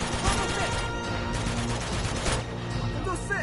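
Gunfire from the video game Uncharted 2: Among Thieves, a busy, steady barrage of shots and crashes running throughout at high level, with no clear gaps, mixed with other game sounds.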